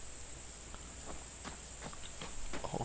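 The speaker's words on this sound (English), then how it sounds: "Are those cicadas?" Insect-like chirps in the video game Obduction, heard as a steady high-pitched drone under scattered faint clicks and soft footsteps, with no one talking.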